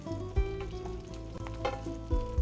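Chicken breasts brown on their second side in a skillet, giving a steady close sizzle and crackle of hot fat, broken by a few soft knocks from the pan.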